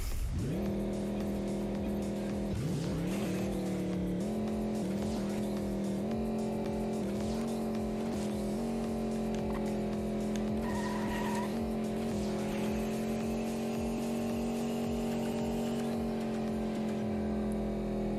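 A racing car boosted by nitrous in a video game gives a loud, continuous high engine whine with tire squeal and skidding, its pitch shifting as it accelerates.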